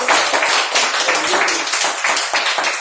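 A church congregation at a family worship service claps loudly and energetically together for a few seconds, a dense wash of many hands close by, with no voices.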